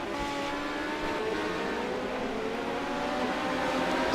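A race car engine screams at high revs in an iRacing dirt-track event at Williams Grove, a sustained, steady whine with layered harmonics from close behind the car, no pauses or shifts.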